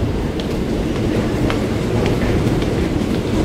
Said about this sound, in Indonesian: Pas banget tuh di jalur 1 masuk komuter lain tujuan Jakarta Kota.